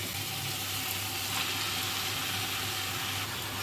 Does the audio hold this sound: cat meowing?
no